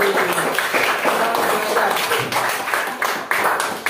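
Students in an Indonesian classroom clap together, a lively burst of many hands striking in uneven, overlapping beats, close and fairly loud throughout.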